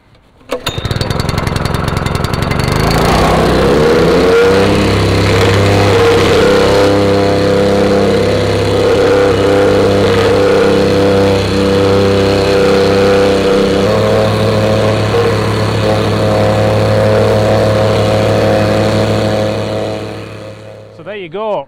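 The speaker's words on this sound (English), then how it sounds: "go over it one more time with a wacker, just to compact that pea gravel into hardcore a little bit" A wacker plate compactor running steadily as it compacts pea gravel into hardcore on a garden path, a loud continuous engine drone with rattling vibration that holds close by throughout before cutting off near the end.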